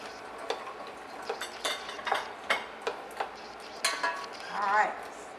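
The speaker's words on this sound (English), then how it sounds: "that's a nice saute that we have going there with our wooden spoon" Vegetables including chopped celery are sautéed and stirred with a wooden spoon, bringing a run of distinct knocks and scrapes against the pan over a faint sizzle, with a brief voice-like sound near the end.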